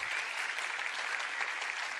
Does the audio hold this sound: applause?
yes